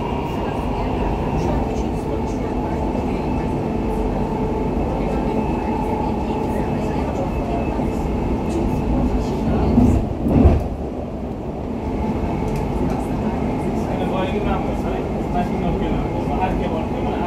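A Dubai Metro train runs along the line in 2023 with a steady, loud rolling rumble and hum throughout, with a brief clunk or bump near the middle.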